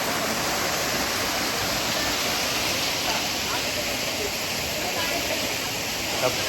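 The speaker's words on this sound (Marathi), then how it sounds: "हे बघा मागे झरणा बघा." Waterfall on a trek at Bhimashankar, a constant broadband rush of falling water filling the scene evenly from start to finish, with no voices standing out.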